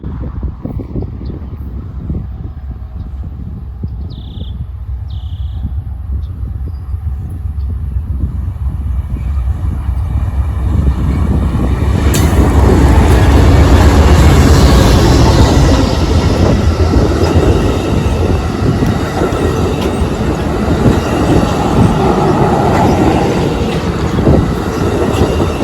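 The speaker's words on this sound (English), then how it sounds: "this is Amtrak train number 6, the eastbound California Zephyr coming out of Emeryville, California" Amtrak's eastbound California Zephyr passenger train approaches with two brief horn blasts, then roars past up close with heavy rumbling and clattering wheels that continue loudly to the end.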